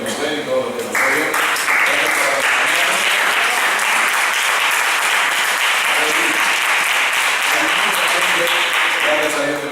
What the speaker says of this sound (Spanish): así que vamos a darles un aplauso a todos los que nos ven y todos los que nos oyen